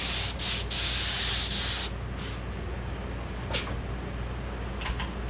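Spray paint hissing onto a 1:1400 scale AMT USS Enterprise E model kit, one strong close burst of about two seconds followed by a softer, continuous hiss with a few short spurts.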